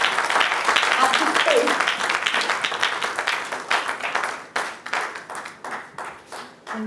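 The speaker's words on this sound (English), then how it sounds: "with a round of applause, let's welcome Dr." Audience claps to welcome a speaker at a talk, a loud burst of crowd applause that thins into scattered individual claps, with voices speaking over it.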